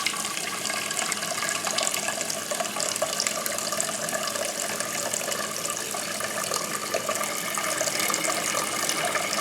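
Steady rush of cold tap water pouring into a pot for boiling eggs, a continuous broadband hiss at even loudness throughout, with no voices.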